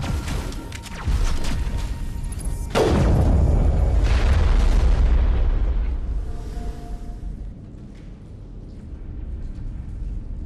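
A grenade blasts in the Mass Effect video game: one loud, booming explosion with a sharp onset and a long rumbling decay, followed by quieter game ambience.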